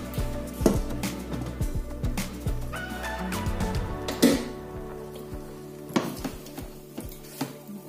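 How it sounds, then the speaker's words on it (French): A spoon stirring tapioca couscous in a cooking pot, with scraping and clinking against the metal, a few sharper knocks standing out from a soft, steady background hum. "Chaque 2 minutes, je viens tourner et je fais comme ça 5 fois."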